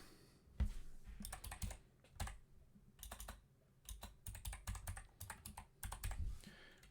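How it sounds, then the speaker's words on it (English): Quiet, uneven bursts of keystrokes on a computer keyboard as a username is typed, with short pauses between clusters of clicks and no talking. "Type your username."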